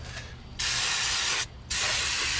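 Aerosol brake cleaner from a can sprays onto the front brake rotors of a 2017 Land Rover Discovery in two loud, close, sustained hissing bursts separated by a short pause.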